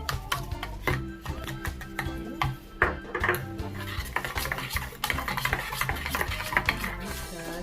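A spoon stirs and scrapes as soy sauce and brown sugar are mixed into pear puree in a bowl for Korean bulgogi marinade, with irregular clinks and rubbing strokes continuing steadily, close up and fairly loud.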